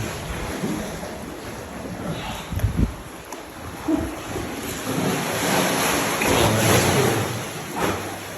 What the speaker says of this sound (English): And the waves just crashing into it.